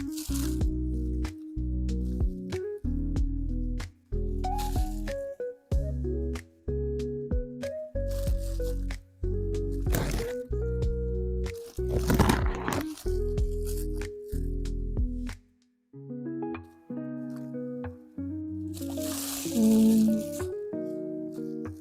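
Close, wet chewing of a Korean cheese spicy burrito with a thick rolled wrap: repeated squishy bites and mouth noises in an irregular rhythm, with a few short pauses and no speech.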